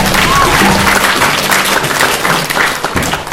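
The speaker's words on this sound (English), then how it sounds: "let's please give her another round of applause" An audience applauds at a news conference on Indigenous Peoples Day in Wisconsin, a loud, dense round of clapping with crowd noise and a few voices mixed in, steady for its full length.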